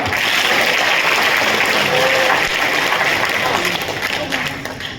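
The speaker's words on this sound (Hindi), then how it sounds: "बजाओ ताली एक बार" An audience at a motivational talk in India claps together in a continuous, fairly loud roar of applause that holds steady, then fades slightly at the end.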